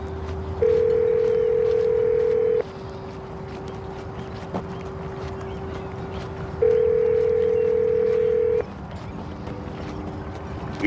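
A US cell phone call rings through before reaching voicemail: two long steady electronic tones separated by a pause, over a faint constant background hum.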